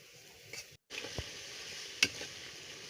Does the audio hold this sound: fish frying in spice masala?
yes